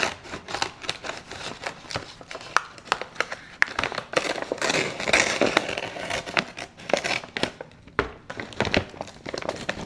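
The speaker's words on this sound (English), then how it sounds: "Let's just use some scissors." Scissors snip and slice through packaging for a mystery pack of art supplies, with crisp cuts mixed with crinkling plastic and paper rustling, close and fairly quiet, in an irregular rhythm.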